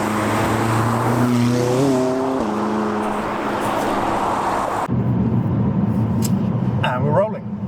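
A McLaren 570S drives with a loud engine drone. Its pitch rises and then shifts through gear changes early on, before it settles into steady cruising with a faint chirp near the end.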